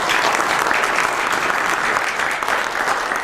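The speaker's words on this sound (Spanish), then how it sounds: "Pues un aplauso, Roberto, buen comentario." An audience at a biotechnology quality-control conference applauds, a dense, steady patter of clapping that holds at the same level for about three seconds with no talk over it.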